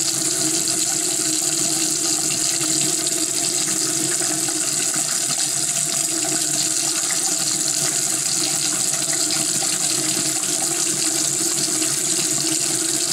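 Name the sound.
water running from tap, rinsing sugar scrub off hands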